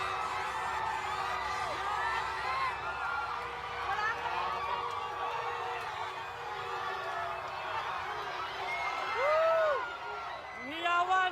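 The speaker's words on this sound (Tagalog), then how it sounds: "Ang hiyawan, wala na talaga," A large political rally crowd in Pangasinan roars with sustained cheering, whoops and yells, a dense wall of excited voices that swells near the end, with a nearby speaker talking over it.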